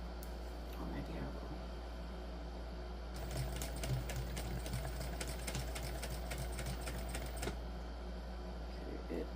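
A sewing machine stitches through a crossbody bag, a quiet hum before a fast, loud burst of rapid needle strokes lasting several seconds and then stopping abruptly.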